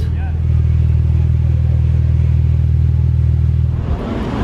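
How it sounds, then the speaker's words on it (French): A tuned Porsche engine rumbles loudly at a steady low idle, close by, at the Gumball 3000 in Monaco, before the sound shifts and fades near the end. "Magnifique Porsche préparé par T-Chart."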